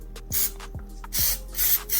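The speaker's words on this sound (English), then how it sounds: "Just spray the tin." Cooking spray hisses onto a baking tin in several short bursts, four or five quick close sprays separated by brief pauses, with no talking.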